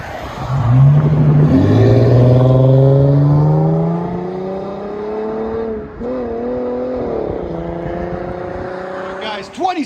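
A 2017 Dodge Challenger 3.6L V6 with an aftermarket exhaust revs, the engine note climbing in rising sweeps, easing and swelling again in a loud, raspy growl, with a brief blip near the end.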